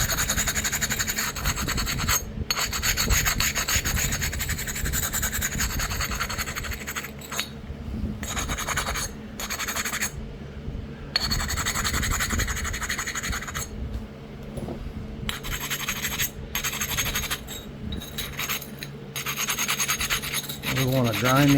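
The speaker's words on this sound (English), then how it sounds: "We want to grind the edge here." A flint tomahawk slab preform having its edge ground, giving continuous loud harsh scratching and rasping strokes at close range for the whole stretch with only brief breaks.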